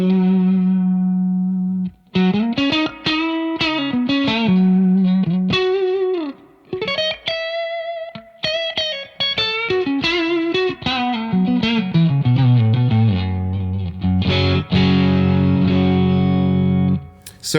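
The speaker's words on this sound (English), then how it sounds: "we'll start by just going to the spring, put everything at 12 o'clock" Electric guitar played through the spring reverb setting of a Keeley Hydra stereo pedal with every knob at noon: strummed chords and single-note runs trail into a wet, splashy reverb tail, loud and continuous with no talking.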